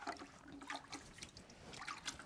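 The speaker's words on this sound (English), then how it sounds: "let me rinse my arm off." Water splashing and trickling as an arm is rinsed off during a ceramics glazing session, a faint continuous patter of drips and small splashes with no talk.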